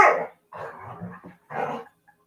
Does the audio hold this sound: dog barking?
yes